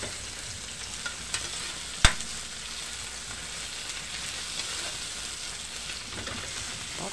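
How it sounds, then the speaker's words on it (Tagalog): Garlic, onion and tomato sauté in a wobbly pan, giving a steady close sizzle with scraping stirs and one sharp knock of the spatula against the metal, with no voices. "gisahin lang natin si bawang, sibuyas at kamatis"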